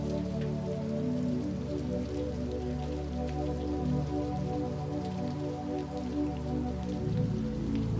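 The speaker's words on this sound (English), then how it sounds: "Rain on the window." Rain falls on a window in a steady, dense patter, soft and continuous throughout, with a low, gentle drone lying underneath and no voices.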